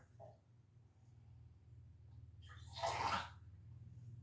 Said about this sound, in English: This is a big jug. It's not easy to pour.